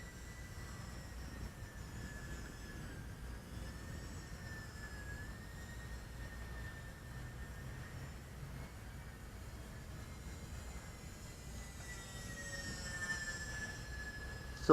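An E-flite Aero Commander RC model airplane flies at around half throttle, its engines giving a faint, steady whine that wavers in pitch, with a low rumble and a sudden loud burst at the very end.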